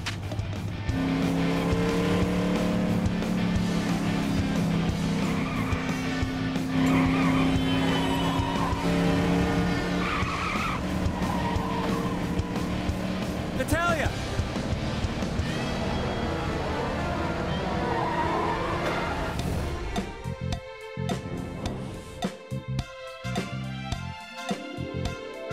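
Cars driving and skidding in the Lego City Undercover video game on Nintendo Switch: a continuous engine drone with tire squeals, dense with game music and effects, loud throughout, with sharper crashing hits near the end.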